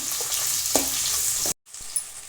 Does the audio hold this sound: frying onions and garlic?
yes